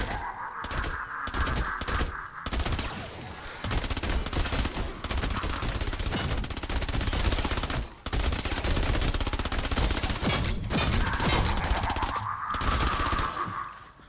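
Candy Corn LMG firing in Fortnite: Save the World, long sustained bursts of rapid automatic gunfire broken by brief pauses, loud and close with a faint tonal effect at the start and end.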